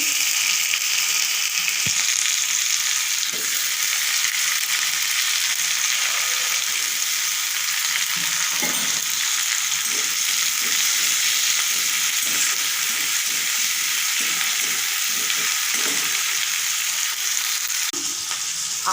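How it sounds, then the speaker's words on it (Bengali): Bay leaf and five-spice seeds frying in hot oil as tempering for a cabbage curry, a loud, steady sizzle with occasional stirring scrapes and no talking. "তেজপাতা দিলাম ফোড়নে, 5 ফোড়ন দিলাম।"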